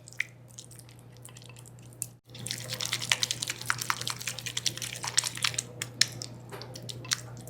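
Spoon stirring mashed avocado with lemon juice in a bowl, producing soft, wet squishing and scraping that grows busier after a short pause, close and fairly quiet over a low steady hum.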